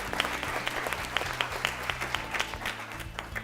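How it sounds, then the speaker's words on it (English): A quiz show audience claps for competing teams, a dense patter of applause with some distinct individual claps standing out, moderately loud and steady throughout, with a low hum underneath. "Let's clap for them, please."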